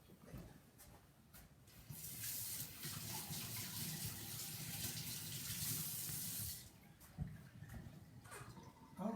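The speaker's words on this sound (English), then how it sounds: "Let me wash my hand." A kitchen tap runs steadily for several seconds as hands are washed beneath it, a soft splashing gush that cuts off near the end, leaving faint clatter behind.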